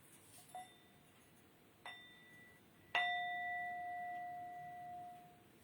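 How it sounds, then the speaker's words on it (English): Three metallic bell strikes, two light taps then a clearer ring that sustains and slowly fades, bright and resonant in a quiet room. "As you hear this bell"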